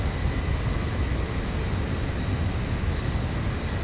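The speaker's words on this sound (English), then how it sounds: "If you can hear me over the roar of the engines." Boeing 737 jet engines in the X-Plane 11 flight simulator, a loud, steady broadband roar that fills the whole stretch without change, with no talking over it.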